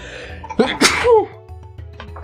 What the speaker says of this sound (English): I'm gonna sneeze momentarily.